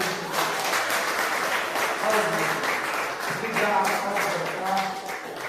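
A church congregation applauds at a Wednesday worship service, sustained clapping from many people filling the room while a voice speaks briefly over it.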